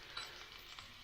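Sage leaves fry in hot oil, giving a quiet, steady sizzle with small crackles and pops throughout.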